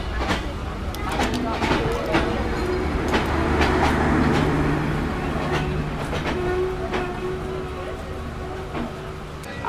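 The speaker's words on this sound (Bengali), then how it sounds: "দ্রুতযান এক্সপ্রেস ট্রেন ছেড়ে দিল আক্কেলপুর স্টেশন থেকে।" A Drutojan Express passenger train pulling out of Akkelpur station rumbles along with rhythmic clickety-clack wheel beats and clanks, heard loud from on board under steady talk.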